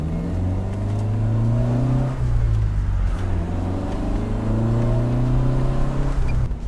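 A Lancia Fulvia Coupe 1600 HF, a light front-wheel-drive coupe, accelerates with its engine close and loud, rising in pitch through one gear, briefly dropping on a shift near the middle, then climbing steadily again.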